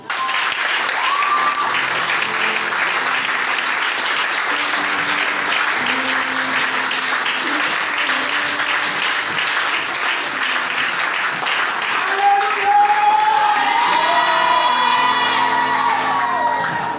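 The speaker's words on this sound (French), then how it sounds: "alors tu vas acclamer très fort" A church congregation at a worship service applauds and cheers loudly and continuously, with whoops and shouts rising from the crowd and music playing underneath.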